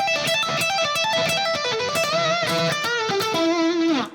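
An electric guitar plays a rock lick in the first position of the minor pentatonic scale, alone and fairly loud, a quick run of notes that finishes on a big sustained bend with vibrato.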